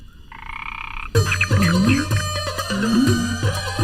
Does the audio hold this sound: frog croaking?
yes